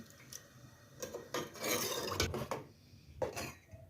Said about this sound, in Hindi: इसे पकाऊंगी मैं अच्छी तरह, चम्मच चलाते रहेंगे।